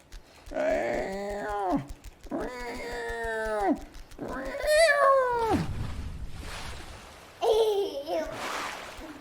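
A male house cat yowls while resisting a cat carrier before a vet trip: three long, drawn-out meows, then a sharper rising cry and a final complaint, loud and close.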